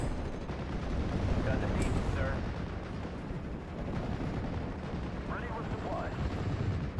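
Machine gun fire in the WWII strategy game Steel Division during a US campaign battle at Sainte-Mère-Église, a dense, loud continuous rattle of gunfire and distant explosions filling the whole stretch.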